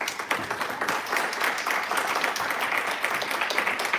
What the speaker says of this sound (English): Another round of applause to Iris.